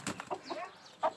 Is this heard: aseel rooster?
yes